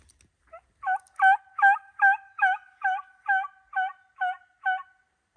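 A rapid series of about ten loud wild turkey gobbles in Nebraska, close and clear, rising then tapering in a steady rhythm.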